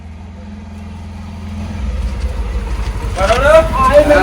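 A new motorcycle arrives with a low engine rumble that builds louder as it pulls up, then people start talking over the running engine.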